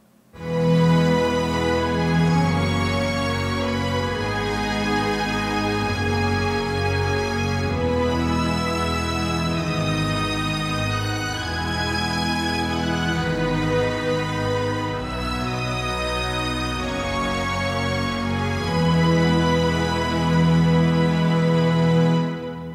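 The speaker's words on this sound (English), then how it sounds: "only the Appassionata strings sound like this." Spitfire Appassionata orchestral strings play a sustained, swelling passage with rich layered harmonies, loud and continuous without any talking.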